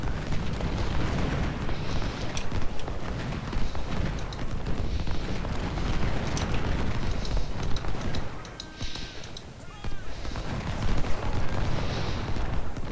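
Civil War cannon fire in a Malvern Hill battle game, a continuous roar of battlefield booms and crackling musketry with sharp reports poking through, dipping briefly before swelling again.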